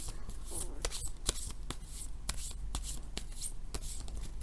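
Tarot cards being shuffled and drawn by hand, a steady run of crisp riffling and sharp snapping card flicks close up, with no speech over it.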